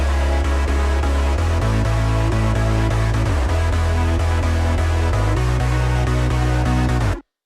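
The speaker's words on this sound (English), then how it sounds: "together, the sub bass, the chords, and the mid bass sound like this" A progressive house sub bass, sustained chords and a mid bass play together in Cubase, a loud, dense, steady layer with the bass notes changing every couple of seconds before it cuts off abruptly.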